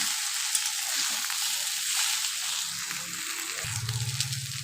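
Mixed vegetables frying with Kashmiri chili powder and red chili powder, a steady broadband sizzle with soft stirring scrapes, close and continuous, with a lower bubbling rumble rising near the end.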